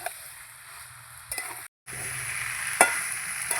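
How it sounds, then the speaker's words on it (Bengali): Egg and soybean curry being stirred and sautéed in a pan gives a low sizzle with occasional spoon scrapes and clinks, broken by a brief silent gap midway. "ভালো করে সময় নিয়ে এভাবে কষাবো তাহলে তরকারিটা খেতে খুব ভালো লাগবে"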